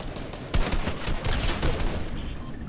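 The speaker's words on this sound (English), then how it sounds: "They're shooting a llama right now." Players in Fortnite Chapter 2 Season 8 fire a sustained stream of gunfire at a llama, close and loud with sharp peaks over a dense noisy bed.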